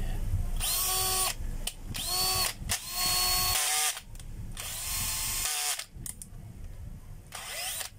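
A replacement electric motor runs hard in repeated whining bursts that rise and drop in pitch, loud and close with brief pauses between runs, sounding like a power tool under load.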